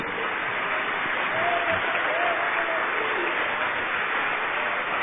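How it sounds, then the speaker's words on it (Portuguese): Steady, dense applause from a large church congregation fills the whole stretch, loud and continuous without pauses. "Isso, vamos aplaudir mais o Senhor Jesus"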